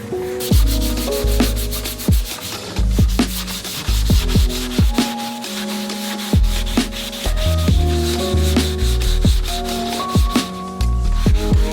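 Repeated rasping strokes of sanding on a Porsche GT3 RS bumper and fender panel, rhythmic and close, with a steady machine-like hum in the background.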